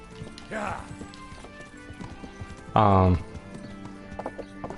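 Soft hoof clops of a horse walking, with a short whinny partway through, under a steady game-like background.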